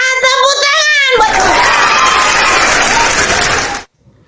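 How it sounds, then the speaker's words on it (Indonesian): Loud crowd clapping and cheering at a religious debate gathering erupts after a sung or chanted voice, sustained for a few seconds before cutting off abruptly. "Tepuk tangan buat anak Tuhan."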